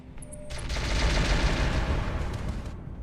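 Mortar fire strikes a mech in the BattleTech RogueTech video game, heard as a sustained, loud barrage of rumbling explosive impacts after a few brief electronic beeps.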